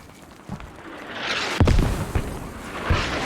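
Mortar explosions in the video game Squad, a few heavy booms landing at moderate distance, one sharp loud impact followed by smaller rumbling blasts over a constant low battlefield hum.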